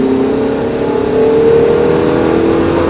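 A car accelerating hard on a race track, heard from inside as a loud, steady engine drone climbing gradually in pitch, with no talk over it.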